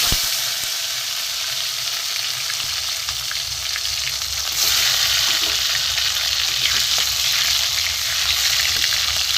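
Vegetables and tomatoes added to tempered spices, frying in a pan for a vegetarian dalna, with a loud, steady close sizzle that swells partway through, plus occasional soft stirring scrapes.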